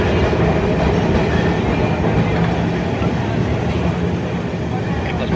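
Trams rolling along busy city tram lines in Milan, a continuous loud rumble with rhythmic wheel clatter filling the whole stretch.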